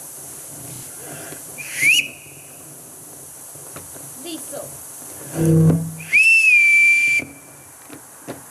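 Two distinct sharp whistle calls, each a rising then level shrill tone, blown as signals to summon children in a Sound of Music stage production, with faint voices and a short spoken name between them.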